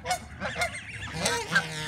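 Geese on an island honking repeatedly at close range, several loud nasal calls in quick succession with no talk.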